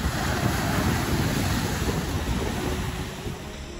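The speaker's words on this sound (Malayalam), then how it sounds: "ഭയങ്കര തിര വരലും അതിൻ്റെ ആ ഒരു സൗണ്ടും" Surf rolling onto Kappad Beach in Kerala: a steady, loud wash of breaking sea waves with wind buffeting the microphone, continuous for the whole stretch with no voices.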